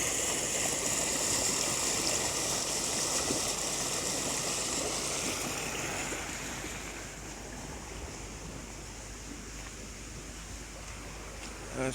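Water rushes hard through a canal in a steady, broad roar, louder at first and easing slightly toward the end, with no voices.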